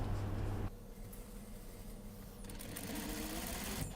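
A sewing machine runs steadily, stitching a straight 7 mm seam along a coat, a close, even mechanical whir that continues alone after a brief louder start.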